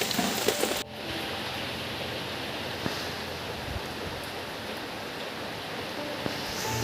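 Heavy storm rain during a cyclone, a dense, steady hiss of downpour and wind holding without letup after a brief opening sound, with no voices.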